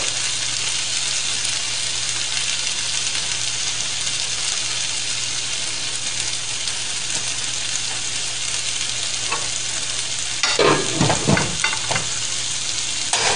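Low carb barbecue sauce caramelizing in a hot pan gives a loud, constant sizzle and crackle, with a brief burst of sharper spattering near the end as something is turned.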